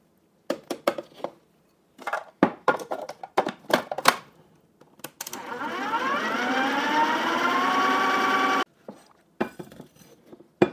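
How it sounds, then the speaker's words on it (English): Food processor pulsing Oreo cookies and butter for a cheesecake crust, with short rattling bursts, then a sustained whirring run of several seconds, followed by more brief pulses. "turn this and pulse it"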